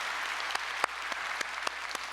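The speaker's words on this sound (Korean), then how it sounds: "수고하시는 우리 선교사님들에게 다시 한번 우리 응원의 박수 한번 부탁드립니다" A church congregation claps at a Sunday service for visiting missionaries: a faint, sparse patter with a few distinct sharper claps standing out, fairly distant, with no talk over it.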